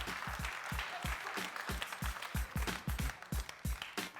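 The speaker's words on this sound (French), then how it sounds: "Merci de l'applaudir, les gars." A television studio audience claps in a steady, rhythmic beat, with each hollow hand-clap distinct and close, keeping an even pulse throughout.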